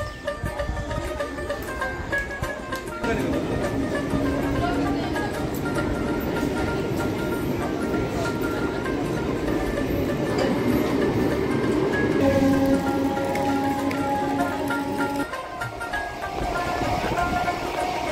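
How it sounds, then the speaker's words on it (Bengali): A train from Rampurhat arrives at Ahmedpur Junction station, a continuous loud rumble with rhythmic wheel clatter swelling and settling as it rolls along the platform, with a station announcement and background voices mixed in. "ট্রেন আসবে রামপুরহাট থেকে।"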